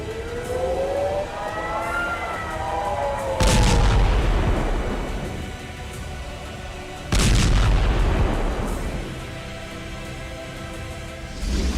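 Heavy booms from Israeli air strikes in southern Lebanon, two loud broadband blasts several seconds apart with rumbling tails, over a wailing siren-like tone at the start.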